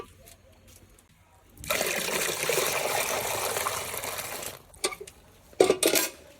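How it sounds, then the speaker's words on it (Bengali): Water pours steadily into a pot for a few seconds, a bright, close gushing splash, followed by light metallic clinks and taps of the pot being handled. "আর এমনি পুরোটা জল ভরে দেবো"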